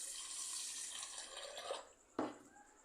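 Rice grains rinsed in water for a Gobindobhog rice payesh, with a steady wet swishing and trickling throughout, then a brief louder splash near the end; fairly quiet and close, no talking.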